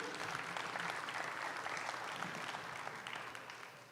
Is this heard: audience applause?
yes